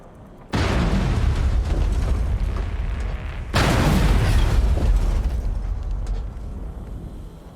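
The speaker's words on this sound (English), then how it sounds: "Exploding sandbike." A sandbike blows up in Dune: Awakening with a sudden loud blast, and a second heavy explosion follows about three seconds later. Both leave a long roaring rumble that slowly fades, with no voices over it.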